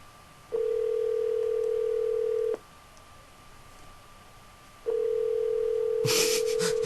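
In the OneShot video game, a telephone rings in two long, steady electronic tones separated by a pause, loud and clear, with a brief burst of other noise at the end.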